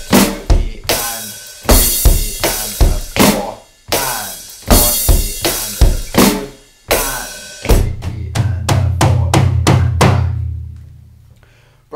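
Drum kit playing an open hi-hat offbeat groove; punchy repeated kick and snare hits with washy open cymbal strokes, loud and close, ending in a quick run of hits and a sustained low ring.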